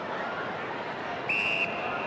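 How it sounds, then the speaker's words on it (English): An umpire's short, sharp whistle blast sounds once over the steady roar of the crowd at an AFL football match. "Another whistle."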